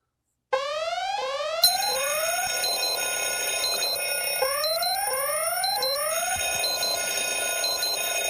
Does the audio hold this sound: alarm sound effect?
yes